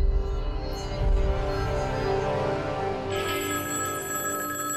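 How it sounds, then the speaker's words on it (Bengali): A telephone ringing in an animated cartoon, a bright repeated electronic bell tone sounding steadily and loud, shifting to a higher ringing pattern partway through. "ফোনটা ধরবো নাকি ধরবো না?"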